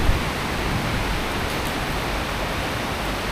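Heavy rain pours during a thunderstorm in Krabi, Thailand, a dense, steady hiss of falling water close by with no breaks or voices.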